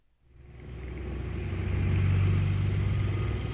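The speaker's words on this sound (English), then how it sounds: "Here's the sound of an oscillating fan." A fan played through a smart speaker gives a steady broadband whooshing rumble. It fades in over the first half second, then holds loud and constant, close by with no talk.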